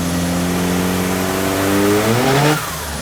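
Big-block engine revving hard on a dyno, a loud sustained roar with a rising pitch that climbs toward the rev limiter, then drops abruptly near the end.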